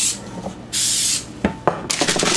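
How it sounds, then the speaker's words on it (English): Short hissing bursts of safflower non-stick cooking spray onto baking pans, several quick sprays separated by brief pauses, close and fairly loud. "Spray both pans with a non-stick cooking spray."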